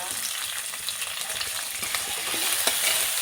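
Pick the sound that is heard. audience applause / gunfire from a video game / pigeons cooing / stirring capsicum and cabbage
stirring capsicum and cabbage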